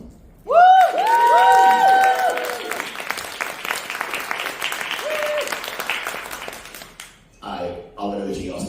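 An audience at a self-expression session in Brighton bursts into loud clapping after a performance. A voice whoops at the start, then the applause tapers off with scattered claps and cheers.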